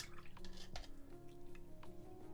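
A paintbrush loaded with Contrast paint is rinsed in a water pot during miniature painting, giving a few soft, close drips and light splashes with faint clinks against the pot.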